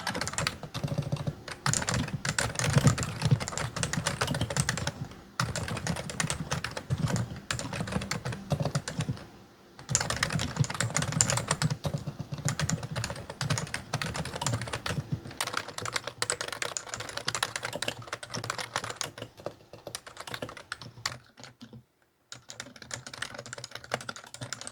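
Steady, rapid typing on a Realforce Topre electrostatic capacitive keyboard with coated keycaps, dense muffled keystrokes running almost continuously with a few brief pauses, close and clear with no voices.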